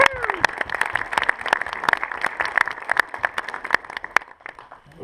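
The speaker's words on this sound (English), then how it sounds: "Very big applause and a warm welcome for Mr." A crowd applauds a rider's introduction at a motorcycle launch event in Sweden: sharp, loud individual claps over a steady wash of clapping that thins out toward the end.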